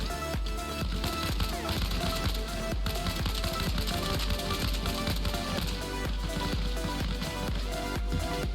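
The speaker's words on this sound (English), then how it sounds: "He's shooting me." Rapid bursts of gunfire crackle in the video game ARMA Reforger, dense repeated shots fired at the player, steady and close throughout with no talking.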